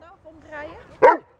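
A Great Dane gives one sharp, loud bark at the end, after a stretch of people talking quietly.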